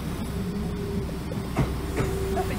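Three-coach class 172 diesel train 172-345 running, giving a low engine drone with a few clunks and rattles from the coaches, moderately loud and steady, with no talking.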